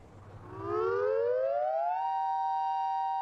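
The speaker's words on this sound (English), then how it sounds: "Everyone knows what to do when the sirens sound." A tsunami warning siren in Japan rises steadily in pitch, then holds a long, loud, steady wail with rich harmonic tones.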